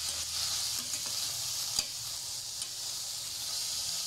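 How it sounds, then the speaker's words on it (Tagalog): Softened pork sautéing in a pan, a continuous bright sizzle with occasional stirring scrapes and a sharp clack, steady and close with no voices. "Gigisa natin."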